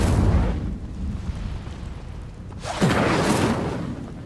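A fire spell cast in Hogwarts Legacy bursts out at close range with a whooshing blast midway through, trailing into a crackling roar over a steady rumbling game backdrop.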